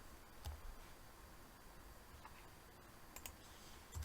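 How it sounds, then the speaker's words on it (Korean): Windows key and R key pressed on a laptop keyboard: a few faint, sharp clicks spread out against quiet room hiss. "그 윈도우 모양의 키를 누르시고 R 버튼을 눌러줍니다"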